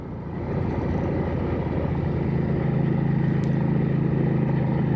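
A Hyosung GV650 Aquila motorcycle cruises steadily on a sunny day near Darwin, Northern Territory, with a continuous low engine drone and wind rush at a constant, fairly loud level throughout.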